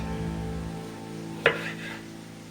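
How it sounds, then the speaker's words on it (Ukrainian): A single crisp knife cut through peeled smoked sausage being diced in a home kitchen, one short sharp chop against a steady low background hum. "Ковбаску я почистила і буду різати кубиком також."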